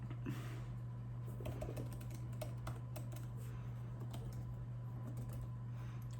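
Rapid keystrokes clatter on a computer keyboard, close and fairly quiet, over a constant low electrical hum.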